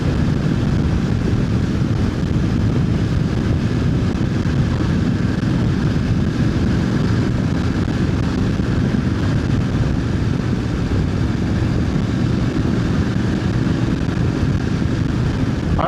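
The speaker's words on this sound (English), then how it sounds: "I wonder if you can hear a lot of road noise or engine noise." Riding a Voge 900DSX adventure motorcycle on the road produces a continuous low engine drone and road rumble, heavily mixed with steady wind buffeting, loud and unbroken throughout with no talking.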